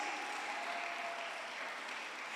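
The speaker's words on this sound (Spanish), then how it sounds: "Denle un aplauso al Señor, hermano." A church congregation applauds in a dense, continuous burst of clapping that stays full and even from start to finish, with no speech over it.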